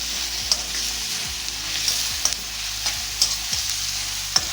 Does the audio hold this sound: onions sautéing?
yes